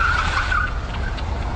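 BYD prototype electric car accelerating hard, a steady loud whine and rush of tyre and road noise throughout, close and continuous with no talking.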